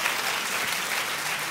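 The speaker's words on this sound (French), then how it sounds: "On peut applaudir bien fort ma fille" An audience applauds steadily in a hall after a speaker at a sermon asks them to cheer for his daughter's graduation, a dense even clatter of many hands at a consistent loudness with no talking.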